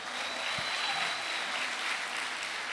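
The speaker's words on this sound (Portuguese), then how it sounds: "Dá uma salva de palmas aí." A church congregation claps in applause for a pastor's birthday, a steady even wash of clapping throughout with no voices over it.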